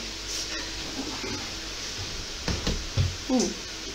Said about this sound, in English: What you hear there is the sound of bacon.